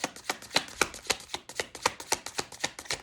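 Tarot cards are shuffled by hand in steady, quick riffling snaps, about four per second, soft and close with no talking.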